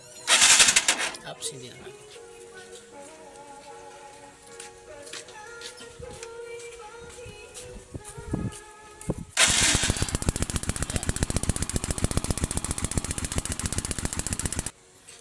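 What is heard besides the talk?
motorcycle engine started to test stock ignition coil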